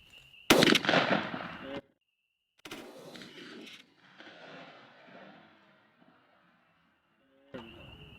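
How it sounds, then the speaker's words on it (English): A TriStar Cobra 3 shotgun fitted with a Primos Tight Wad choke and loaded with Apex Turkey Ninja shells fires one loud, sharp blast at a target 40 yards off. The crack fades quickly, and quieter bangs and handling sounds follow. "40 yards, I'll shoot the left target"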